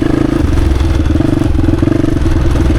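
A 1996 Honda XR250 dirt bike cruises in third gear, its single-cylinder engine thumping loud and steady close by, with a constant rumbling drone and no voices.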